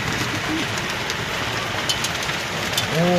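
Steady dense patter of hail, stones larger than chickpeas, drumming on surfaces in Ankara, with scattered sharper impacts and a brief bird call near the end.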